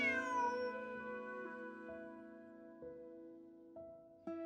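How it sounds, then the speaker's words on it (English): A cat in Genshin Impact gives one long, drawn-out meow that slowly fades, followed by a few faint short taps, quiet and alone. "Bonnie is Pierre's cat."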